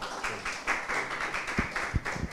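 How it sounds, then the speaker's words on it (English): Applause from a seminar audience, a spread of scattered hand claps in a steady patter for a couple of seconds, moderately quiet and unaccompanied by speech. "Can we have a big round of applause for them before we start?"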